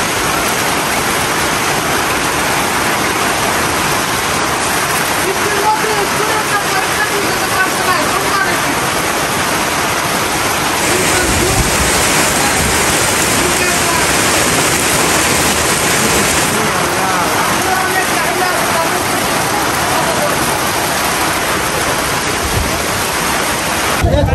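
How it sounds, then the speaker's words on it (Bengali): Sudden heavy rain pours down in a loud, dense, unbroken roar that fills the whole stretch, steady hiss with slight surges and no clear voices above it. "হঠাৎ করে বৃষ্টি শুরু হয়ে গেল।"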